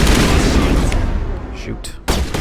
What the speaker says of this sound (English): I'm gonna switch over to the assault rifle.